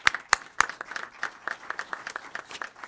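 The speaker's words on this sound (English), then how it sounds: "Let's give Sushi Miguel Style another round of applause" Audience applause at a city council meeting, a short burst of scattered hand claps that starts with a few sharp, loud claps and thins into lighter, uneven clapping across the room.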